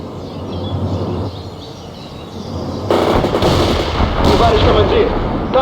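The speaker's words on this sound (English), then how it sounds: "Launch those grenades now! Put your grenades and fire!" Grenade launcher fire in the strategy game World in Conflict comes as loud booming blasts and crackling reports, heavier bursts in the second half, with shouted radio-style commands from in-game soldiers mixed in.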